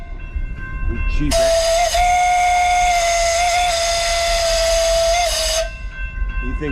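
Roaring Camp Beach Train steam whistle blowing one long, loud, steady tone for about four seconds, slightly wavering in pitch, with rumbling train noise before and after.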